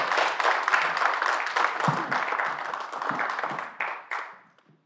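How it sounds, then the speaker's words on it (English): A church congregation applauds with dense, steady clapping that tapers off and fades to silence at the end. "A round of applause for Eric."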